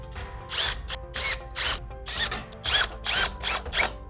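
A power drill drives screws to secure guard rail brackets onto a post, with several short bursts of whirring motor separated by brief pauses, close and fairly loud with no talking.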